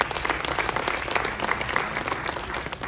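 An audience at a music event claps in dense, sustained applause, a busy crackle of many hands held at a steady, fairly loud level, with a faint voice underneath.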